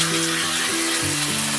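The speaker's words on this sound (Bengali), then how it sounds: "মাছের তেলটাও আমি ভেজে নেব" Fish fat melts and fries in hot oil in a kadai with chopped green chilli, making a steady, loud, dense sizzle with a low humming tone running underneath; no talking.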